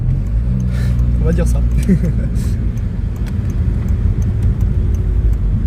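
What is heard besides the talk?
stage 2 Volkswagen Passat accelerating hard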